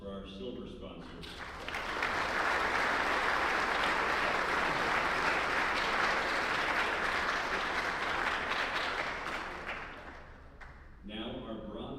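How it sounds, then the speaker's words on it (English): Sustained applause from a banquet audience honoring silver sponsors, broad and steady for about nine seconds before tapering off, with brief talk at the start and again at the end. "Let's have a round of applause for our silver sponsors."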